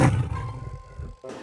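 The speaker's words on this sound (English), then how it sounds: "my favorite animal is a tiger." A tiger gives one short, loud, close roar that fades over about a second, followed by a brief separate sound at the end.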